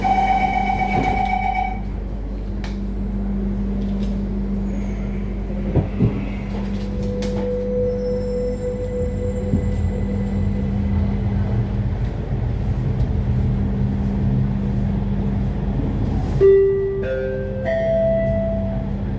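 An LRT Jabodebek light rail train on the Cibubur Line runs with a steady low hum and rumble, joined by tonal whines and a chime-like sequence near the end, heard from inside the car without talk.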